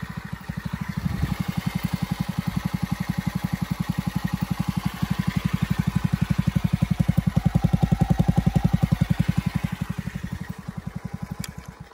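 A motorcycle engine, its throttle handle loose with some play, runs with a steady, close, chugging pulse that swells slightly as the throttle is opened and then eases back, with no voices.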